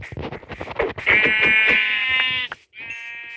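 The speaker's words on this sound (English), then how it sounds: "Is there another white sheep?" A sheep in the Minecraft video game bleats with a sustained, wavering cry following a stretch of busy sound, then gives a shorter second bleat after a brief gap.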